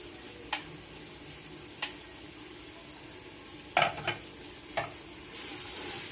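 Mint leaves and coriander frying in hot oil and paste for chicken biryani, a steady close sizzle broken by a few sharp metal spoon clicks and stirring scrapes against the pot.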